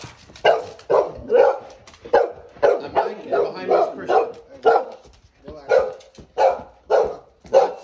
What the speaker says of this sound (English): A bark.